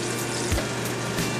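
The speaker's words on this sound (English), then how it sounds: "Lay your chicken in here. You can hear it sizzling." Chicken frying in a hot pan with olive oil gives a dense, steady sizzle with faint crackles and a couple of soft bumps, close and continuous, with no voices.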